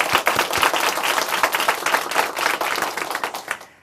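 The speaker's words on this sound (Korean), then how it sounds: "박수 한번 올려드릴까요?" A church congregation at a Korean church service breaks into lively applause, dense overlapping hand claps that hold strong for about three seconds before quickly tapering off.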